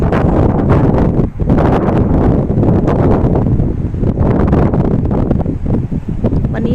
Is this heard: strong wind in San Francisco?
yes